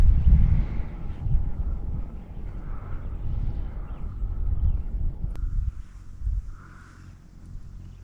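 Steady low rumbling wind buffets the microphone throughout, loud and gusty at first and easing toward the end, with faint bird chirps in the background, out on the water while fishing in Ontario's North Channel.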